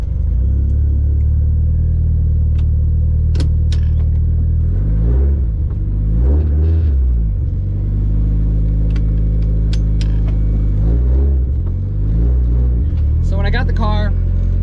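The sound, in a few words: 1983 Toyota Corolla engine while driving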